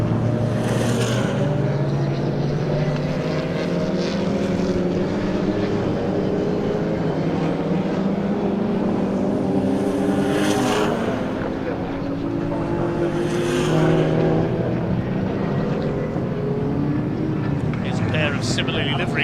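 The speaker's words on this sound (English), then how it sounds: "the E36 of Chris Murphy, number 721, about to be lapped by the treble 8, the M2 CSR." Racing cars, including BMWs such as an E36 and an M2 CSR plus a Cupra, circuit the Snetterton track in a steady engine drone with rising and falling passes, under continuous commentary.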